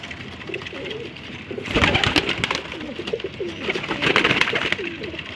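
Pigeons coo in a soft, repeated murmur, with bursts of fluttering wings rising twice over steady outdoor background noise.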